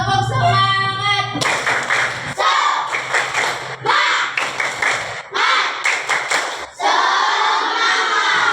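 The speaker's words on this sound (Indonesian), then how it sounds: "Tepuk semangat." A group performs the "tepuk semangat" clapping routine during an ice-breaking session in a training class. Loud, sharp claps come in rhythmic patterned bursts with short pauses, and brief shouts are mixed in.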